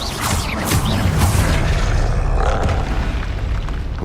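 A Confringo spell explodes in Hogwarts Legacy with a loud, rumbling fiery boom and crackling debris that fills the few seconds, heavy and close.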